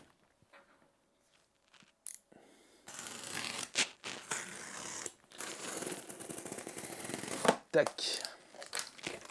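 Packaging being torn open and crinkled to unbox a repaired Nikon F5 film camera, with a burst of crackling, rustling handling noise after a quiet start and a brief spoken word.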